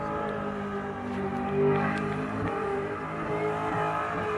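Small block Chevrolet V8 in a Commodore Ute racing at Winton, engine roaring loudly and steadily under hard acceleration as it climbs through the gears, with a brief tire squeal.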